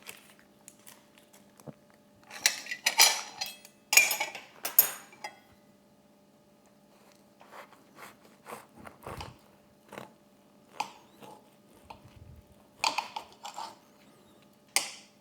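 Someone bites and chews a small Burger King onion Whopper Jr., with close, irregular crunchy bites and mouth sounds separated by quiet pauses, over a faint steady hum.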